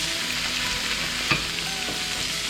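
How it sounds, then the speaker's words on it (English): Onions caramelizing on a Pit Boss griddle give off a steady, close sizzle as they are stirred, with one brief scrape of a spatula on the metal, and no voices. "So we're just going to stir them in there and don't let them get burnt."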